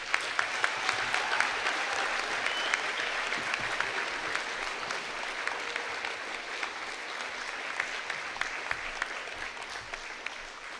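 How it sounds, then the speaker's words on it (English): A crowd at a 2024 high school graduation ceremony gives the graduating class a sustained round of clapping, dense and even for the whole stretch with no voices rising above it. "please give a round of applause"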